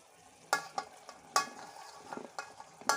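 Capsicum being stirred into prawn tomato masala frying in a pan, with several distinct spoon scrapes and stirs over a soft steady sizzle, close and moderately loud, no talking.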